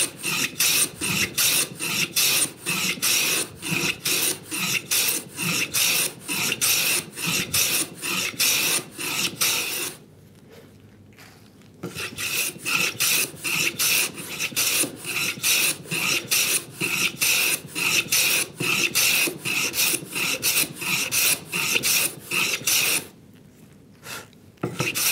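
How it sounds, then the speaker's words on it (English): A hand plane shaves a wooden surface in rapid, rhythmic rasping strokes, loud and close, with two brief pauses between runs and no talking. "I could be planing against the grain and not know it"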